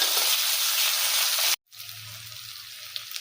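Loud hissing sizzle of frying in a hot oiled kadai, cut off abruptly partway and returning quieter and softer as chopped tomato is added to the pan.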